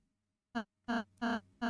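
A goose or swan in the video game Deltarune honks four times, each call short and nasal, the later three longer and closer together, sounding alone with no talk.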